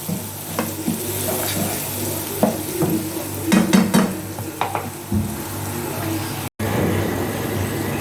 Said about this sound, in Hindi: अब हम इसको मिक्स कर लेंगे और ढक के रख देंगे ताकि हमारा मसाला अच्छी तरह से भून जाए